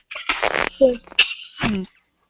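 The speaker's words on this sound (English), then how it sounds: "it just makes you cough thinking about it" A couple of short, harsh coughs and throat sounds close by, broken up by brief pauses.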